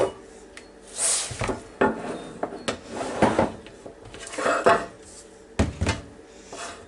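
A metal muffin pan is picked up and handled in a kitchen, giving a series of scattered clanks and knocks of varying loudness spread over several seconds.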